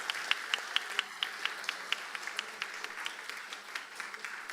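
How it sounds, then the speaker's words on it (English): Applause for a TED Talk-style competition winner at a school English Day event, with a small group clapping in distinct, fairly quick claps that thin out and soften over a few seconds. "A big round of applause to our winner"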